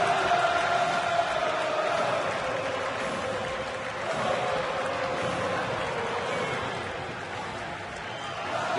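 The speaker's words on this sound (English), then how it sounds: "Listen to this huge crowd." A huge baseball stadium crowd at an Atlanta home game roars and cheers steadily after a pitcher's exit, a broad sustained wash of noise rising and falling slightly.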